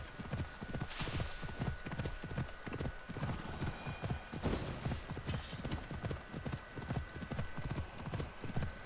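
Rapid, steady hoofbeats of a galloping horse in a video game, loud and continuous with a faint whinny and game ambience, no talking.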